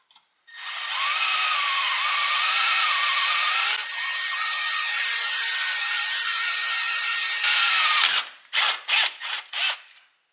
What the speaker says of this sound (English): So let's get a drill and get to work.